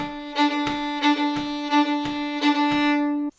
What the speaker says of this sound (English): So again, it's a quick down bow and a slow up bow, but where that down bow happens is in between the beats